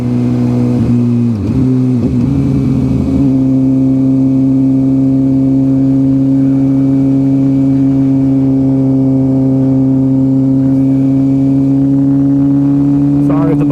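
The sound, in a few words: Suzuki GSX-R motorcycle riding with full Brox exhaust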